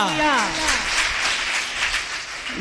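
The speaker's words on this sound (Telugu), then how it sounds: "చప్పట్లు కొట్టండి." A church congregation claps during Sunday worship in Macherla, a broad wash of applause following a preacher's voice, steady and fairly loud for a few seconds.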